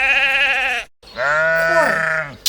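Two loud, close sheep bleats, each a wavering nasal cry, separated by a brief pause, with the second call longer and rising in pitch.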